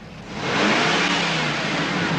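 Pontiac Trans Am engine in a movie scene, a loud close rev that swells within the first half second and holds as a steady roaring whoosh.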